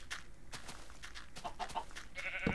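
Minecraft sheep bleating once near the end, short and fairly close, over a busy mix of game sounds.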